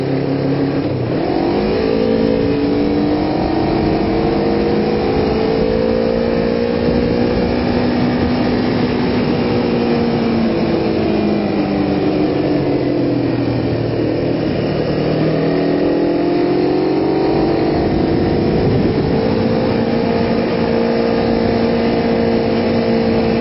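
A sport motorcycle rides the twisty Mulholland Drive, its mid-pitched engine constantly rising and falling in revs through curves, loud and close, with steady wind rush underneath and no talk.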